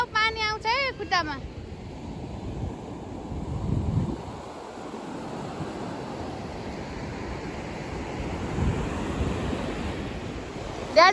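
Atlantic Ocean waves washing onto a beach, a continuous broad surf wash with swells and wind buffeting the microphone; a brief high chirp-like voice is heard at the start.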